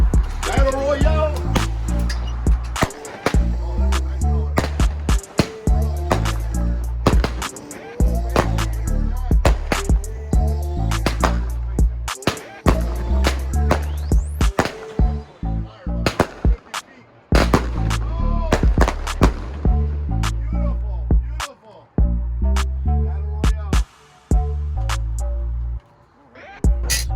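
A Battle Royale consumer firework cake goes off outdoors as a long run of loud, sharp bangs and crackles. The bursts come in quick clusters with brief gaps and continue for nearly half a minute.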